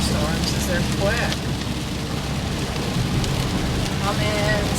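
A quick summer thunderstorm pours steady heavy rain, heard from inside a car as a dense, constant hiss and patter without pause.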